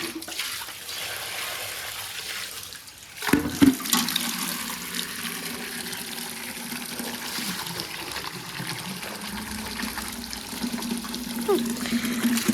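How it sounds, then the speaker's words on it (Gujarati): Hand-washed clothes wrung out, water streaming and splashing continuously, with a sudden louder gush early on, then a steady pour close by. "તો કપડાં ધોવાઈ ગયેલા છે, નીચવાના બાકી છે."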